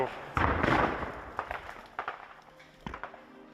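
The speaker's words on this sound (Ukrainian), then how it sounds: "Ну, чуєте, стріляють." Several sharp, distant bangs of gunfire from a battle with Russian troops at the Ukrainian front, scattered irregularly over a dull rumble, echoing from a distance.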